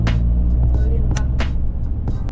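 A car drives along the narrow, winding Amalfi Coast road in Italy, its engine and road noise a loud steady rumble from inside the cabin, while people talk over it.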